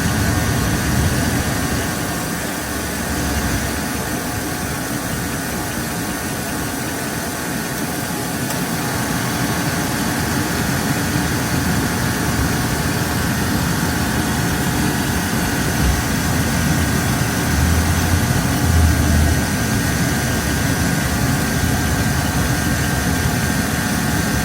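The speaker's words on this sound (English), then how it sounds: "I can hear the AC compressor cycling." A GM Chevrolet engine idles steadily for the whole stretch, a continuous close rumble with broadband hum and no speech. The AC compressor is cycling, shown as faint low thumps that come and go beneath the idle.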